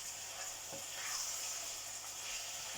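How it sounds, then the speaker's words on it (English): Minced meat browns in a pan for homemade lasagna, making a soft, even sizzle and hiss with faint stirring scrapes, quiet and continuous. "I'm gonna be stirring this until it's brown"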